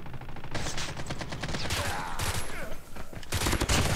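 Rapid three-round bursts from a burst-fire gun in a first-person shooter, loud and close, repeating in tight clusters with brief gaps, plus scattered impact and effect sounds.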